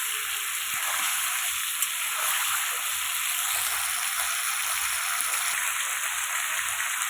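Chicken pieces fry in hot oil for a Bengali chicken and potato curry, giving a steady, dense sizzle and crackle throughout with a few sharper pops, close and fairly loud, with no talking.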